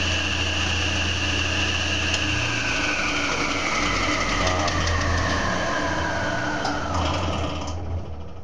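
A table saw switches on nearby, its motor and blade spinning up into a loud, steady whine that slowly falls in pitch as it runs and winds down, with no talk.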